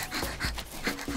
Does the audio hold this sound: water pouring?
no